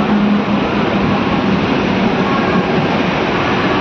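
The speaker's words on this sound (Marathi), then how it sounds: "आपण माणसाळवरून ट्रेन पकडलेली" A commuter train on the line past Belapur CBD toward Thane runs steadily, giving a loud, continuous rumble and rushing noise throughout, with no talking.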